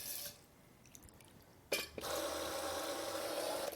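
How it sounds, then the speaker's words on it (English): A faint drip, then a tap turns on and water runs steadily and splashes over a brass trombone, close and continuous. "Rinsing off all the water off the outside."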